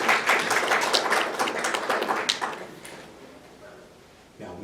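An audience at a Toastmasters district conference claps, a dense burst of many hands that fades out after a few seconds, with a voice briefly returning at the end.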